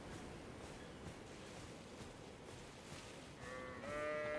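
Sheep bleating in the open world of Elden Ring, a few short tonal calls late in the clip over a steady wash of ambient wind-like game background.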